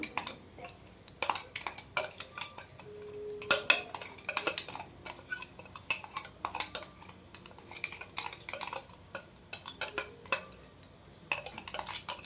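Ground masala being stirred into ajwain leaves frying in a pan for rasam, a spoon clinking and scraping against metal in irregular bursts over a faint background sizzle.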